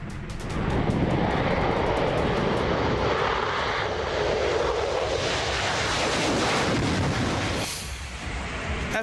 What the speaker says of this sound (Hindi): F-16 लड़ाकू विमान ने उड़ान भरी।